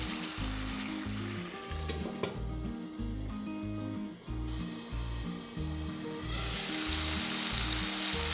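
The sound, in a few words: mash daal cooking in a pan on medium flame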